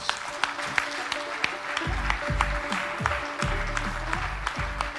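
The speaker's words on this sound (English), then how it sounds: "a round of applause for Mr. Kanak Sarwar, please." Steady applause from an audience at the Bangladesh Investment Summit 2025, broadband clapping texture sustained throughout with low rumbling underneath, fairly close and continuous.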